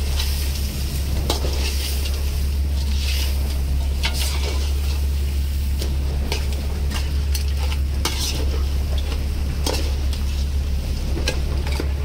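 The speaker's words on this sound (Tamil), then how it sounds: "இப்ப நம்ம இதை நல்லா பெரட்டி எடுத்துருணும்." Crab and prawn curry stirred in a pot, close repeated scraping and clattering strokes over a steady sizzle and a constant low rumble in the background.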